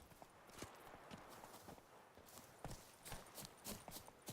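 Roach, the horse in The Witcher 3: Wild Hunt (Blood and Wine), approaches with quick clip-clopping hoofbeats in a steady galloping rhythm over a soft outdoor game ambience, growing nearer and somewhat louder.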